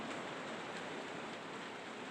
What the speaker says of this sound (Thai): ฝนก็ตกตกอีกแล้ว